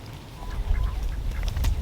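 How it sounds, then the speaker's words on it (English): Farm ducks quack in a small backyard flock on a rainy day, a few scattered calls rising over a steady low rumble of wind or rain, moderately close. "I love ducks, man. Ducks are cool."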